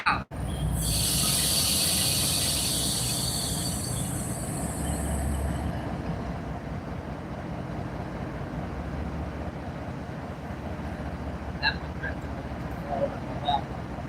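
A diesel train idles for a long stretch at a standstill, a steady low rumble throughout with a brief louder hiss near the start and a few faint knocks later, heard alone.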